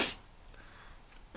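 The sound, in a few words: storyteller imitating a monkey's sneeze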